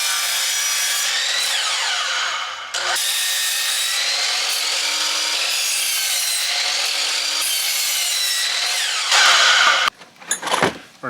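A power saw cuts wood into small blocks, a loud, sustained rasping buzz that dips briefly partway through, then finishes with a short burst and clattering as the cut ends and pieces drop.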